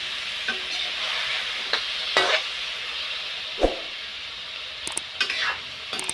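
Patola (sponge gourd) cooking in a pan, a steady hissing sizzle broken by a few scraping stirs and light clinks of the spatula, close by, with no talk.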